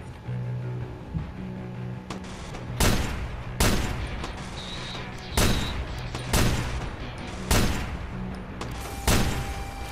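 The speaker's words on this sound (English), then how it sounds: "This sniper's powerful." Sniper rifle fire in the game Watch Dogs Bad Blood, heard as about seven loud, sharp cracks spaced a second or so apart over a low steady background hum.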